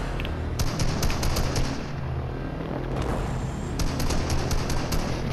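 Rapid automatic gunfire in Fortnite, sharp bursts of shots in quick succession over a dense, loud battle background with heavy rumble throughout.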